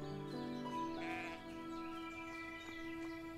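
Sheep bleat in the farming game Everdream Valley, a couple of wavering bleats over a steady tonal music bed, fairly quiet and close.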